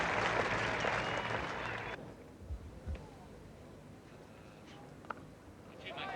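A cricket crowd at a 1977 Australia–England Test applauds a sweep shot by Brearley, a broad burst of clapping that fades out after about two seconds, leaving quiet ground ambience with a few faint knocks.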